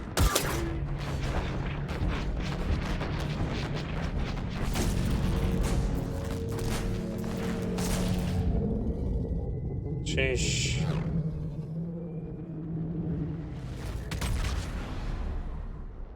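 Explosion in the Mass Effect 3 video game during a Geth versus Quarian space battle, a dense rumbling boom layered with gunfire and game effects, and a player's voice talking over it.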